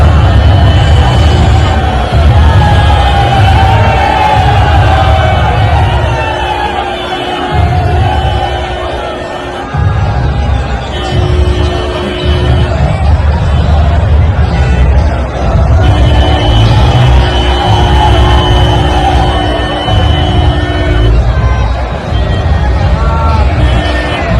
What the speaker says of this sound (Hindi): प्रियंका गांधी वाड्रा का जो रोड शो जा रहा था, भीड़ देखी सड़क में